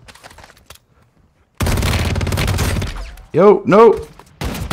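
Gunfire in the mobile shooter Warzone Mobile: a sustained burst of rapid automatic shots after a quiet start, followed by a voice briefly reacting and more shooting at the end.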